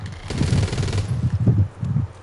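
Automatic gunfire in the zombie shooter Back 4 Blood, a dense, loud burst of rapid shots with a rattling crackle and low thumps that repeat in quick clusters for a couple of seconds.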